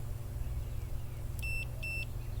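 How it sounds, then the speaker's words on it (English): Two short high-pitched electronic beeps in quick succession from an RV leveling device, over a steady low hum. "we should hear a beep"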